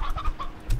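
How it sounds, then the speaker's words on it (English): A hen clucks a few times in Slime Rancher 2, short close clucks with brief pauses, then a louder squawk near the end. "Wait, oh, that's a hen hen."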